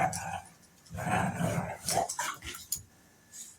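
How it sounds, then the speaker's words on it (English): Several dogs growl and snarl while tugging and fighting over a rope, with short barks and yips breaking through, close and fairly loud, then quieter near the end. "My dogs are fighting over a rope."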